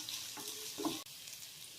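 Chopped onions for a potato fry are stirred in a hot pan, a brief, faint sizzle with a spoon scrape or two near the middle, no voices.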